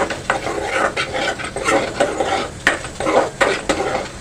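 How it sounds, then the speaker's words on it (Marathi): Spices cook in a ground Malvani masala paste for masoor amti, with a spoon scraping and stirring in rhythmic strokes over a light sizzle, close and steady, without speech. "आता आपण मसाले वाटपामध्ये परतून घेऊया."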